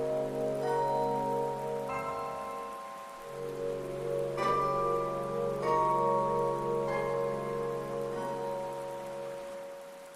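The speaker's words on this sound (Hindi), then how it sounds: "कभी न रुकने वाली लगातार बारिश के लिए" Steady, torrential rain pours down continuously in a rainforest, with a dense patter of drops close by and occasional brighter splashes standing out from the downpour.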